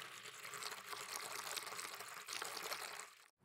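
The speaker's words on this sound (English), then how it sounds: "This mom is putting water in the coffee maker." Water poured into a coffee maker: a continuous splashing, trickling stream of even, moderate loudness that stops abruptly near the end, with no voices.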